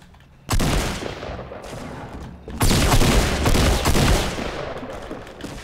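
Gunfire in the video game Fortnite: a sudden loud burst of rapid shots, a pause, then a second sustained volley of repeated shots, close and dominant.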